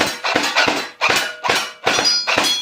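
A gel blaster toy gun firing at a target, a series of five loud, close thunking impacts with short gaps between them, each followed by a brief rattling decay, with no talking.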